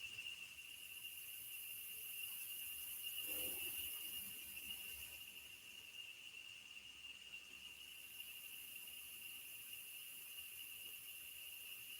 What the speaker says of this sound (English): The sounds of the cicadas, the fans, all the different sounds available.